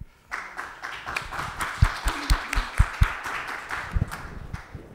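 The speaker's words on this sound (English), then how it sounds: "Maybe applause for her." An audience at a sustainable development debate applauds a panel guest, claps rising to a string of sharp, fairly close hits that slowly thin out.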